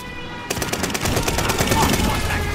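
Rapid automatic gunfire in the Call of Duty Vanguard video game, starting abruptly after a brief quiet moment and continuing as a dense, loud burst of shots with a steady rat-a-tat rhythm.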